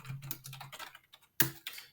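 Someone types a debugger command on a computer keyboard, a quick close run of a few soft key clicks followed by a single sharper keystroke, like pressing enter, in a quiet room.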